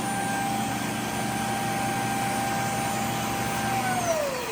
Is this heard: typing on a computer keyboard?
no